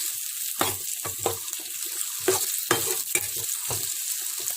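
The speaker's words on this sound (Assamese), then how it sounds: "এতিয়া মই ইয়াত আলুখিনি দি দিম। অকণমান লৰাম আলুখিনি দিয়াৰ পিছত।" Potatoes fry in a hot kadai and are stirred with a spatula, giving about eight sharp, irregular scraping strokes over a soft, steady sizzle, with no speech.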